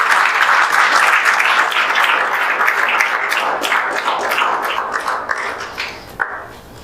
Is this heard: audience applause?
yes